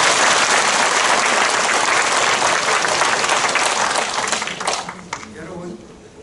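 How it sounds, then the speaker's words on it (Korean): An audience at a residents' briefing on a public redevelopment plan in Ahyeon-dong, Mapo-gu, Seoul, gives dense, loud applause that holds steady for about four seconds and then thins out and fades. "큰 박수 부탁드립니다."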